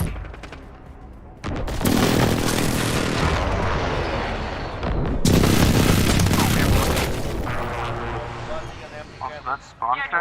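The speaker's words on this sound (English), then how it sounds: "Allied precision airstrike incoming." Heavy airstrike explosions in an online shooter video game roll through as long, loud booming blasts in two big waves, with sharp gunfire and a voice speaking over the chaos.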